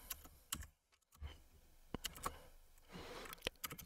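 Faint keyboard typing while Python plotting code is entered, quiet irregular clicks over a low background hum with no talk.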